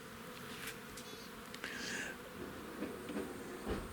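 Honeybees buzz at the entrance of a hive in a soft, steady drone, with a few brief sharper buzzes as insects pass close by.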